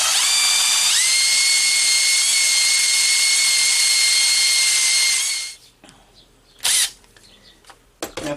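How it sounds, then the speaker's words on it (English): A handheld drill spins a rod through a threading die, giving a loud, steady high-pitched whine for about five seconds before it cuts off. A few brief clicks and bumps follow in near silence. "So I just got it chucked up in a drill here."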